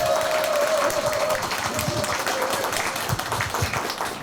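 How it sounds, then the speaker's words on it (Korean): Audience applause for community centre staff at a neighbourhood gathering, a loud, continuous wash of clapping from a room full of people, with a few voices and a faint tone underneath. "우리 센터 직원들 위해서 박수 한 번만 쳐주세요."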